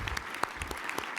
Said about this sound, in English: Let's truly applaud this incredible panel.